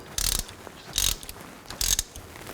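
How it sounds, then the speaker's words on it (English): Ratchet wrench snugging the rear axle fill plug on a 2000-06 Chevy Tahoe, three short bursts of fast clicking pawl ratcheting, close and isolated. "Now put the fill plug in and snug this up."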